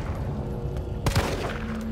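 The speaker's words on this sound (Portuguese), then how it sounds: "Eu sou muito ruim com os tiros na engine do Resident novo" Gunfire in the Resident Evil 3 Remake game, a steady low rumble of ambience broken by a sharp burst of close shots near the middle that echo out over the following half second.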